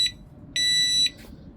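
A motorcycle lock's anti-theft alarm sounds loud, piercing electronic beeps when tampered with: a short chirp, a longer sustained beep, then a brief rough burst, sharp and close.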